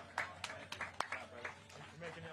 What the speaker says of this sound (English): let's give a big round of applause to Eric Hammer